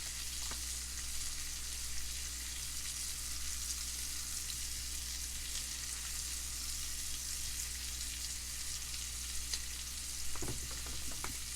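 Shrimp with Old Bay seasoning frying in a pan, a steady close sizzle that holds evenly throughout, with a faint clink of a utensil near the end and no talking.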